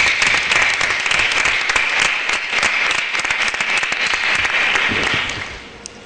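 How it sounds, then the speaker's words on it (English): A conference audience at a plenary session on stigma breaks into loud, sustained applause, a thick wash of many hands clapping that holds steady and then tapers off at the end. "So if we can give them a round of applause."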